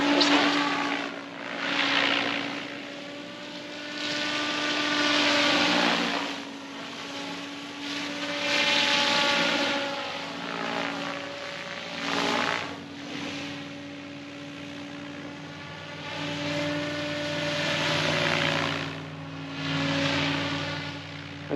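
An XL Power Specter 700 V2 RC helicopter flies its maiden flight, a steady whining rotor and motor drone that rises and falls in loudness as it moves nearer and farther, with no talk.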